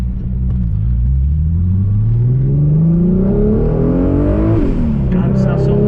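A widebody Audi S4 with a big-turbo VR6 engine pulls hard, its loud rumbling note climbing steadily in pitch through a gear, then dropping briefly before rising again, with people talking inside the car.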